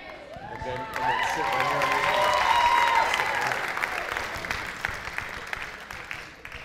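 Audience applause fills a school auditorium after choir members are introduced at the Solon High School spring choral concert, a sustained clapping swell with a few high whoops at the start, then slowly fading.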